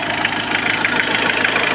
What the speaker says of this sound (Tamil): இப்போ இன்ஜின் ஆன் பண்ணிவிட்டேன். இன்ஜின் ஆனில் இருக்கிறது